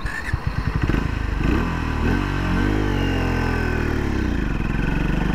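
A Triumph Speed 400 motorcycle pulls away from a stop in third gear, its single-cylinder engine chugging low and loud at first, then settling into a steady laboring hum that rises slightly as it gains pace, close by and without talk.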